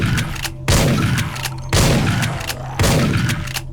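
Three heavy shotgun blasts from the video game Dead Effect 2, each a loud, sharp boom with a long ringing tail, spaced about a second apart with no talk.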